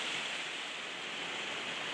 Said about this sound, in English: And it's pouring outside again, as you can hear.